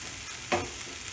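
Onions frying in a pan for onion chutney, a soft steady sizzle with one brief stirring scrape in the middle, faint and close.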